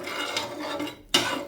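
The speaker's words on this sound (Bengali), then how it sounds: "এগুলোকে একটু ড্রাই রোস্ট করে নেব।" Cardamom, a dried red chilli, a piece of cinnamon and salt dry roast in a pan, a soft continuous rustle and scrape of spices being stirred, with a brief pause before a sharper metallic scrape.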